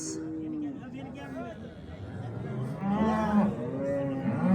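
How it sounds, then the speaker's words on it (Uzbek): Cows at a livestock market in Bogdot give several long, low moos, close and fairly loud, with someone talking over them and background crowd noise. "Sigirlar mana"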